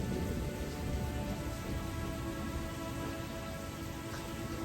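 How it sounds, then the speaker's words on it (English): Rain falls steadily onto the surface of the Arkansas River as a dense, even hiss of droplets with a faint low rumble underneath, constant and close throughout with no talking. "all the water droplets from the rain is just dancing off of the top of the river"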